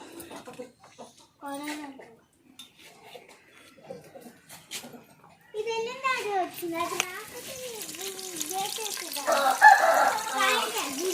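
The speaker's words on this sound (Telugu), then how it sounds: "వర్షి ఆ కోడి రాదు, నువ్వు గెడేసేసి లోపలికి వెళ్తే కోడి మొత్తం పాడు చేసి గెడాయి వర్షి." A chicken near a village house clucks and crows intermittently at close range while adults and someone talk nearby.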